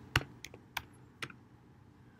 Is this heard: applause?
no